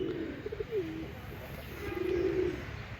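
Pigeons on a house rooftop give soft, low cooing calls in two drawn-out phrases, one early and one near the end, fairly close over a quiet outdoor background.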